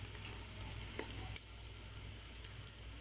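Ginger fries with salt in hot oil in a pot while being stirred, giving a soft, even sizzle with a couple of faint stirring knocks, quiet and without speech.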